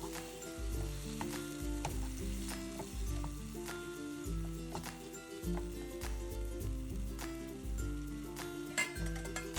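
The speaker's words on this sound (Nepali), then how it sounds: "अब गोलभेडालाई राम्रोसँग पकाउने।" Chopped tomatoes fry in a pan with salt, turmeric and green chili for Nepali soybean choila, giving a steady close sizzle broken by repeated scrapes and clinks of a stirring spoon against the pan.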